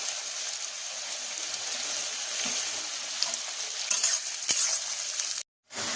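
Carrots and green beans sizzle steadily in a hot pan while being stirred, with scraping strokes throughout and a brief drop to silence near the end.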